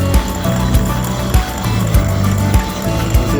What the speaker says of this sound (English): the machine is cutting. It's going pretty well.